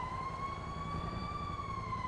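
A fire engine's siren holds one steady, continuous wail, moderately distant and unbroken over low traffic rumble.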